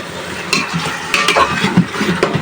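Spice paste with snakehead fish and bottle gourd is stir-fried in a pan, giving a continuous close sizzle broken by several scraping stirs and metallic clinks of a spoon.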